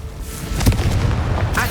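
A Confringo fire spell detonates in the Hogwarts Legacy video game, a loud, close booming blast with a rumbling roar that holds steady for over a second, with no talking.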